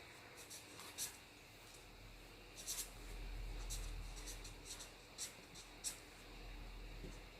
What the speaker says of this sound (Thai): เดี๋ยวผมจะเขียนเลขให้ทุกคนได้เบิ่งครับ